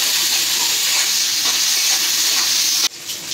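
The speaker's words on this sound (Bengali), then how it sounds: "শুটকিগুলো তেলের উপরে দিয়ে দেব" Dried loitta fish sizzles in hot oil in a pan, a dense, even frying hiss that stops abruptly near the end.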